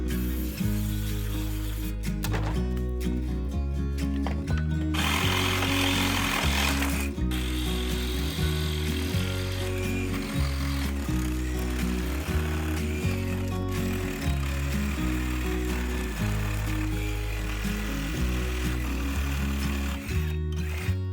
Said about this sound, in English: cut off the excess from the slats, flip it over and cut off the excess from the slats on the other side